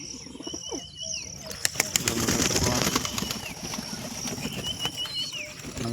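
A pair of pigeons being handled and checked, with bursts of loud wing flapping close up, rustling, and soft chirps and coos in between.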